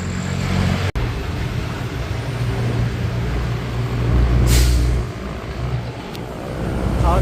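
Trucks and other traffic pass on a city road in Thailand, a continuous loud engine rumble and road roar with a brief hiss swelling midway, heard close.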